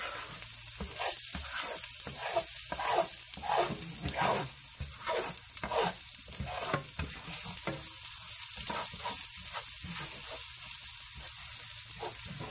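Pork stir-frying with ginger and garlic in a frying pan, a steady close sizzle broken by repeated bursts of stirring and scraping, with no talk.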